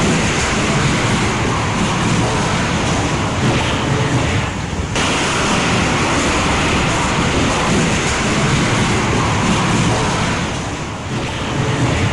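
Cyclone Nisarga strikes the Maharashtra coast at Ratnagiri with strong wind and rain, a loud, constant roar of gusts and downpour blending with surf, buffeting the microphone throughout.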